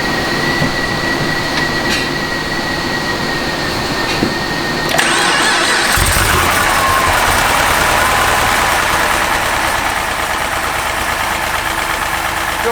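Chevy SS with a supercharged LSA V8, strapped to a dyno: a loud steady engine drone with a high whine that shifts about halfway through as the pitch and roar build, close and continuous.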